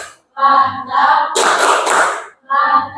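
A school group performs the rhythmic 'tepuk mantap' clap, with a burst of dense, close hand clapping set between loud chanted voices.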